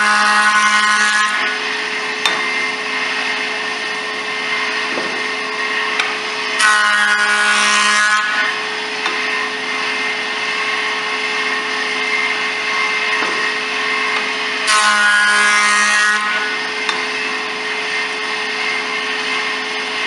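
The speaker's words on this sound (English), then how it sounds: "we want to try and straighten at least one of them here on the joiner" A jointer woodworking machine runs steadily with a loud constant motor whine, while a board edge is fed through to straighten it, its cutterhead roaring louder in two distinct passes.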